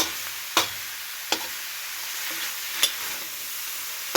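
Puffball mushrooms sautéing in a pan give a steady, soft sizzle and hiss throughout, with a few sharp clicks of a utensil knocking the pan.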